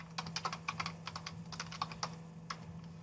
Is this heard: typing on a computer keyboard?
yes